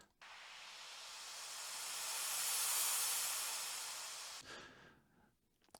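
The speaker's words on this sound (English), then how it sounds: "We have this riser here" A trance track riser effect, a breathy white-noise sweep that swells steadily louder for about four seconds and then cuts off, followed by a brief quiet tail.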